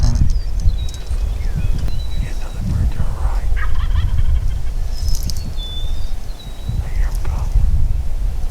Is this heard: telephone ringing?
no